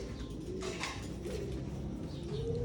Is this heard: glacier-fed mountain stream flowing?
no